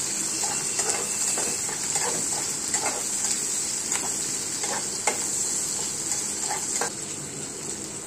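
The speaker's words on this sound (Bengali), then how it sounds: "30 সেকেন্ডের জন্য পেঁয়াজ আর ক্যাপসিকামগুলোকে আমি হাই হিটে নেড়ে নিচ্ছি।" Onions and capsicum stirred in a pan over high heat for restaurant-style chilli chicken, a steady bright sizzle with light scraping strokes of the spatula throughout, close and continuous, no talking.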